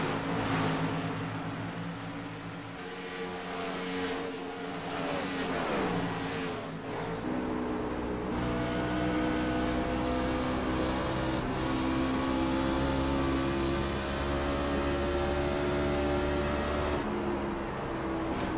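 Race car engine in the iRacing sim at Dover, a steady loud drone that rises and shifts in pitch as the car laps, with a constant roar throughout and no talk over it.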